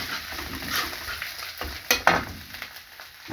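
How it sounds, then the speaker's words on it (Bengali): Ginger garlic paste frying in a pan for an egg dish, a steady close sizzle with scattered stirring scrapes and a couple of sharper utensil knocks near the end. "এবার একটু এটা ফ্রাই করতে হবে।"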